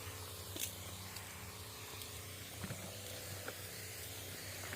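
Oil sprayed onto a fruit tree hisses as a steady, fairly faint outdoor spray, with a low engine-like hum running underneath and a few brief louder bursts.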